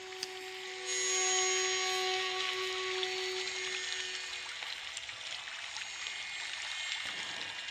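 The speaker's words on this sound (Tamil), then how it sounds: "அதனை அடுத்து கம்பீரமாய் காட்சியளிக்கிறது நமக்கு கவியருவி." Kaviaruvi (Monkey Falls) waterfall near Pollachi roars as a steady broadband rush of falling water, continuous and fairly distant, with a faint tonal hum early on and no talk.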